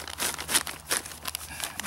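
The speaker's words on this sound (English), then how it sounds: "I just stuck it in this plastic bag" A foil emergency blanket rustles and crinkles inside a plastic bag in quiet, irregular bursts of crackling, heard close up with no voices.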